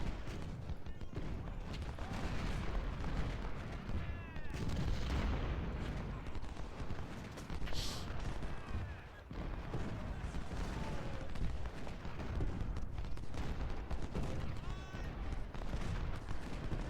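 Artillery fire during the Antietam battle in Ultimate General: Civil War keeps rumbling and banging in a dense, continuous din of repeated distant booms and musketry crackle, fairly faint, with a voice talking over it.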